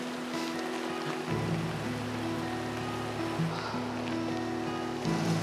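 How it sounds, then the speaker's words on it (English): A clear mountain stream in a cold, breezy village valley in Akita, Japan, rushes steadily and loudly close by, a dense continuous wash of water with no voices over it. "What a beautiful stream."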